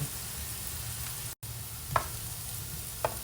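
Red pepper and onion frying in a large steel pan alongside shrimp, a steady soft sizzle with two brief utensil clicks, no talking.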